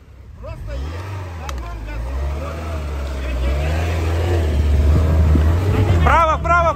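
An off-road vehicle grinds along a washed-out road with its engine rumbling low and steady, revving harder as it climbs over loose ground, while people nearby shout directions over the noise.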